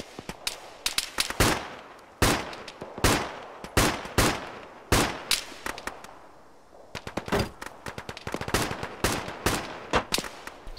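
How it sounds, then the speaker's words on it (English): Rapid bursts of gunfire in a tactical military video game, loud sharp cracks in uneven volleys striking a fence, nearly continuous with brief pauses and almost no talk. "Stop shooting my fence."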